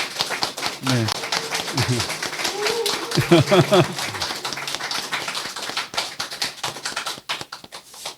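Church congregation applauding a newly registered member during a Sunday service, steady crowd clapping running throughout while someone speaks over it.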